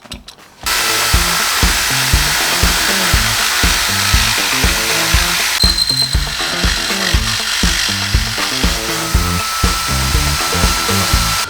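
Loud, close power drill grinding steadily for about ten seconds, with a rapid rhythmic chatter as the bit drills a hole while working on a pocket bike.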